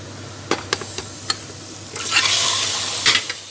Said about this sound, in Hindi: अब पहले सिर्फ प्याज के साथ हमने चिकन को भूनना है।